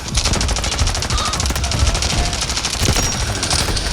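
Rapid automatic gunfire aimed at a vehicle in the mobile shooter Delta Force Mobile, loud and close, as a fast sustained burst of shots with no pause across the whole span.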